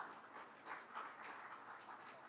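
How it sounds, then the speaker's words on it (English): Audience at a conference plenary session clapping for the presenters, a soft, distant wash of steady applause throughout. "Please give a round of applause for our presenters"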